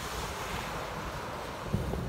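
Rough Black Sea waves rolling onto the shore, a continuous washing roar mixed with wind buffeting the microphone, with one slightly louder surge near the end and no voices.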